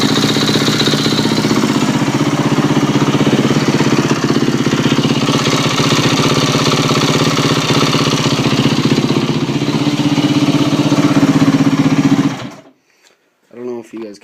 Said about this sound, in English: when it started, there's like a click in the engine